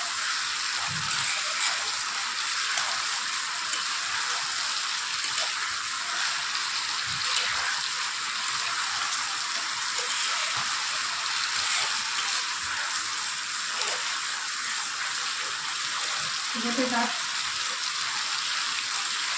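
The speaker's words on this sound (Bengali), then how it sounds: "আলুটা দিয়ে ভালো করে নেড়ে চেড়ে নিচ্ছি, মশলা ঢুকে যাবে এর মধ্যে" Potatoes stirred through spice masala in a pan for dahi aloo dum give a continuous, even sizzle with occasional faint scrapes, steady and close throughout.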